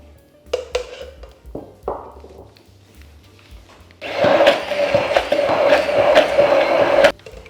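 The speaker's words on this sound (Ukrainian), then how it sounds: "Я проб'ю блендером свою клубніку" A few light clinks and thumps, then a blender roars to life and grinds loudly through frozen strawberries for several seconds before cutting off abruptly.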